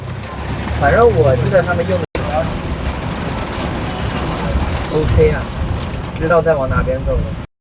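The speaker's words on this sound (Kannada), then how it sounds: "ನೋಡಿ, ಮಳೆ ಹೆಂಗೆ ಸುರಿತಾ ಇದೆ." Heavy monsoon rain pours down onto a main road as a steady, loud broadband roar, with someone talking over it throughout.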